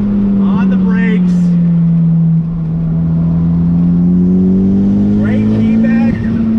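A 1997 Mitsubishi Eclipse GSX engine drones steadily with rising and falling pitch as it shifts through gears, loud and close throughout.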